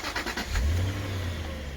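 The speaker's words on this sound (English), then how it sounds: "I'll just start the engine" A 2003 Jaguar XJ8 4.2 V8 sport saloon starting up: a brief starter crank, then the engine catches with a quick rev and settles into a smooth, low idle, recorded close by.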